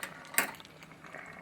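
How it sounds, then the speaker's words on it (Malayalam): A single sharp metallic clink as a lid is set onto a pot of dhaba-style Assamese pork curry, followed by faint kitchen clatter and a soft simmering hiss. "ഇനി മൂടി വെച്ചേ."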